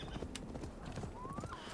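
Soft, rhythmic clip-clop of horse hooves at a riding pace in the Assassin's Creed Valhalla video game, quiet, with a faint whinny-like tone near the end.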